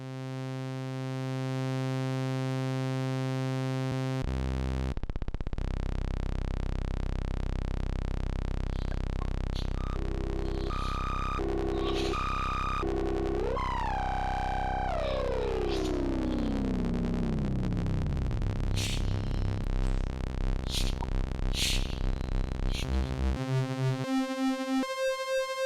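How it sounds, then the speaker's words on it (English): Pittsburgh Modular Local Parks oscillator putting out its blade waveform: a steady buzzy harmonic tone that steps through pitches, then sweeps downward in a long glide before settling into stuttering, rapidly modulated tones, loud and alone. "And that's the blade wave."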